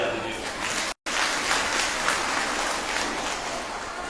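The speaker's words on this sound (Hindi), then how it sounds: "इनके लिए जोरदार ताली बजा दीजिए।" Audience at a political gathering in Ranchi applauding, a dense broadband clapping wash that runs steadily throughout with a brief cut near the start.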